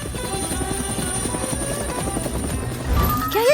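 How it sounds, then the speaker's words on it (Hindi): A cartoon helicopter flying, with fast rhythmic rotor chopping and a steady high whine, close and loud, swelling slightly toward the end. "वाह, उस हेलीकॉप्टर को देखो।"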